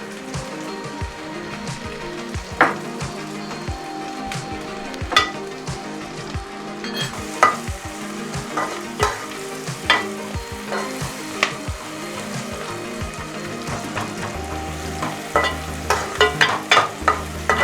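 Sliced onions sautéing in a pan for a beef and breadfruit milk curry, a loud continuous sizzle broken by frequent spatula scrapes and clicks as they are stirred, with no talking.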